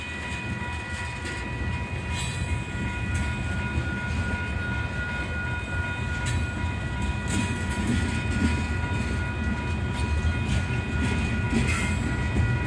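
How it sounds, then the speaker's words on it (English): A slow Union Pacific freight train rumbles past steadily for the whole stretch, a continuous heavy roll with faint rhythmic clacks and a high tonal whine, no voices. "I hope this train doesn't stop because my truck's on the other side of the tracks."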